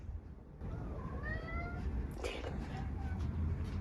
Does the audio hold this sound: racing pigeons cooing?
no